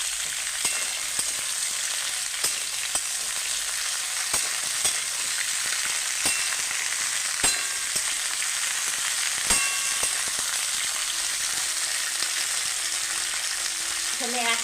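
Potato and stalk pieces for posto fry in a pan with a continuous hissing sizzle, while sharp spatula knocks and scrapes land at irregular intervals, close and steady over a long stretch with no voices.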